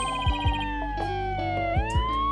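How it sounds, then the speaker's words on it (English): Wailing police car sirens sound outside, several overlapping tones sweeping up and down, steady and fairly loud, with deep rhythmic thuds underneath and no talking. "Mr. Wright, there are police cars outside. And not just one or two, but a whole bunch."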